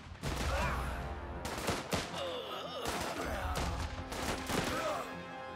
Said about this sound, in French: Vas-y, installe ta mitrailleuse.